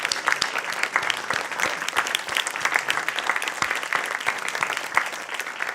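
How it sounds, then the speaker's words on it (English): Members of a church congregation clap together at a spring congregational meeting, a steady patter of many hands in a room, moderately quiet and unbroken, with no talking. "So kindly rise for acknowledgement and applause."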